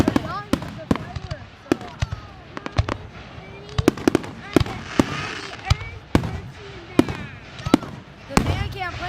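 Fourth of July fireworks show with a rapid series of sharp bangs and crackling bursts going off at irregular intervals, some loud and close, others more distant, while people chat in the background.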